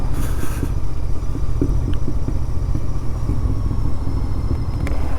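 A Royal Enfield Interceptor 650 motorcycle runs steadily on the road during a ride, its low, throbbing engine note continuous and close, with some wind rush and a few faint clicks.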